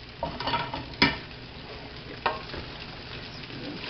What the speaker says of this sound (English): right now I'm just tossing everything through, getting all the noodles in there, getting my shrimp all cooked through